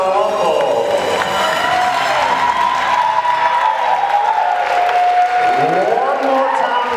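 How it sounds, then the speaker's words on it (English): Guests at a wedding reception applaud and cheer the newly introduced husband and wife, a steady loud wash of clapping with whoops and music, while an announcer's voice talks over it. "A big round of applause"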